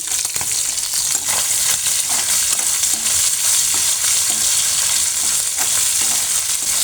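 Beef browns in hot oil in a pan for beef vorta, a loud, dense, continuous sizzle close by, broken by scraping stirs and with no voices.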